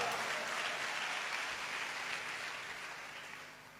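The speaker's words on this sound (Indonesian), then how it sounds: "Tepuk tangannya meriah." A church congregation claps during a sermon, a brief, fairly soft burst of applause that gradually thins and fades over a few seconds.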